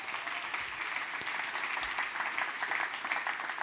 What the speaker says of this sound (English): yep, round of applause